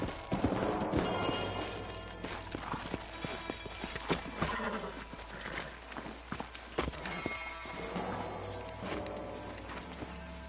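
Horse hooves clip-clopping with occasional whinnies in the video game Red Dead Redemption, amid a busy, layered background of music and effects, moderately quiet and continuous.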